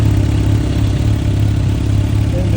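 A Suzuki Gixxer 750 street-bike engine powering an ice racing car drones steadily at a constant loud level, a continuous buzzing hum with no pauses.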